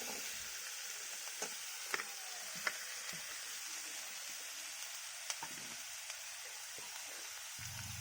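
Whole spices, dried red chillies, two bay leaves and capsicum fry in a pan, producing a steady soft sizzle with scattered faint pops and ticks throughout, heard alone without talk.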